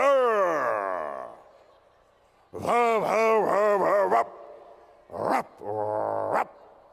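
A voice imitates a dog barking in the style of Shatrughan Sinha at a convention dinner entertainment show, a long drawn-out howl followed by a rapid run of harmonic woofs and two short final barks, loud and close.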